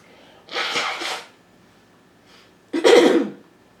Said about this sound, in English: Excuse me, I have to blow my nose.